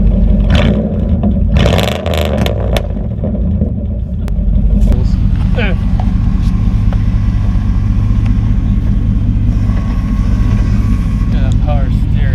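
A car that has been sitting a while, its engine started and revved through the exhaust: a loud, close rumbling idle with swelling revs, voices talking over it.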